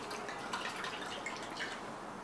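Water poured into a glass gives a steady, fairly quiet splashing trickle lasting a couple of seconds, with no talk over it.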